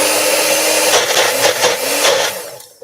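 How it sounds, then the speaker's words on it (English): A Magic Bullet blender whirs loudly and steadily through roasted red pepper hummus, its motor pitch wavering slightly before cutting off near the end, with no voices. "I am using my magic bullet."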